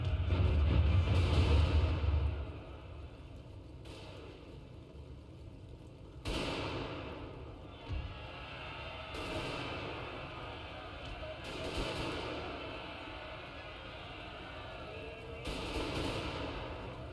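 Repeated gunfire bursts from a Total War Napoleon mod battle game depicting the 1879 Zulu War Battle of Isandlwana, with several volleys spaced a few seconds apart over a low rumbling battlefield bed, fairly distant.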